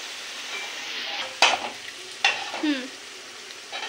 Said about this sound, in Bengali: মশলাটা লাল লাল হলে তারপর মাংসটা দিয়ে দিচ্ছি।